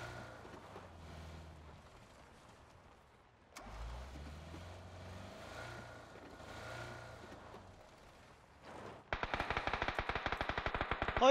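Rapid automatic gunfire from PUBG breaks out near the end, loud and fast, after a stretch of steady vehicle engine rumble and shifting ambient noise.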